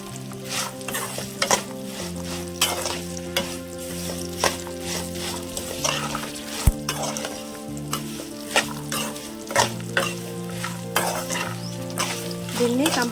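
Bitter gourd pieces fry in hot oil with salt in a village kitchen, sizzling steadily while a spoon scrapes and stirs the pan in repeated sharp knocks and clatters, close and clear with no voices.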